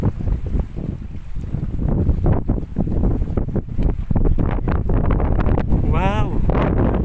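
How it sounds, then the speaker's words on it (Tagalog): Strong wind gusts buffet the microphone on a seaside island, a constant loud roar with rumbling bursts, while people talk nearby and a brief warbling tone sounds near the end. "Lakas na ng hangin."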